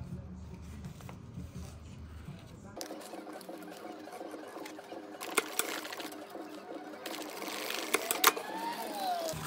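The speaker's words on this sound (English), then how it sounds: "stitch these two sections together with one seam going one way and one seam going the other way" A sewing machine stitches two fabric sections of a homemade bikepacking compression bag together along a seam, its steady mechanical whirr running continuously with brief louder clacks near the end.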